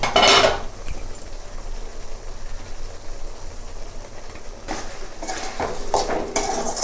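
Broad bean masala is stirred in a pan with coriander leaves, producing bursts of metallic scraping and clatter at the start and again toward the end, with a quieter stretch of faint simmering between.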